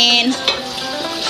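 Sticky black glutinous rice biko is stirred in a pan: close scraping strokes and a wet, thick churning with a light sizzle, one sharper scrape standing out midway, no talking.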